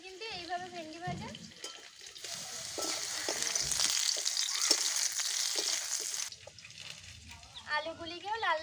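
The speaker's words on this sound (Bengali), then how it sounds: "আলুগুলিকেও লাল লাল করে ভেজে নিয়েছি" Potatoes fry in hot oil with a loud, steady close sizzle that swells in the middle, while someone talks over the cooking.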